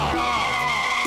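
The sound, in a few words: cartoon character imitating a car starting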